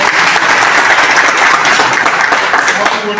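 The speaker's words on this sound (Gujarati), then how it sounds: "ત્યારે આપણે બાપુનો આભાર માની તાળીઓના ગણગણાટ" Applause from a crowd at a Rabari community gathering at a temple in Vadnagar, a loud, sustained wash of clapping throughout.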